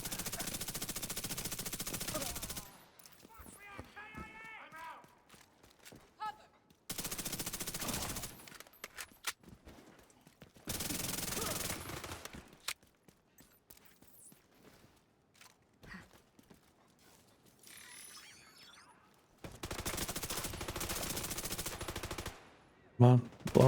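Machine gun fire in The Division 2 rattles out in four long, loud sustained bursts, separated by quieter stretches of movement and scattered shots.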